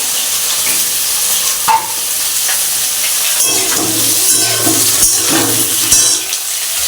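Potatoes frying in a hot pan with oil, a loud continuous sizzle and hiss broken by sharp clatters and scrapes as they are stirred, no talking.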